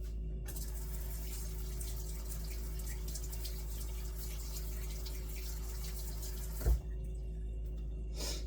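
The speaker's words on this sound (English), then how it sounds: "Wash the hand." Hands are washed under a running kitchen tap, a steady, fairly quiet rush of water that flows throughout, with a brief splash near the end.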